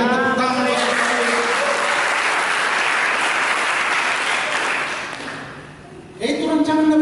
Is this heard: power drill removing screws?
no